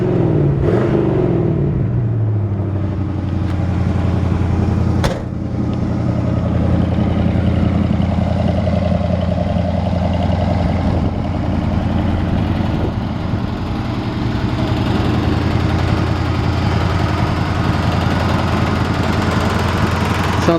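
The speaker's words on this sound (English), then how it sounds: "Nice sounding exhaust." A 1951 Ford F1 pickup truck's engine and exhaust rumble steadily and loudly while driving, a deep continuous drone with a brief revving swell near the start and a sharp knock around five seconds.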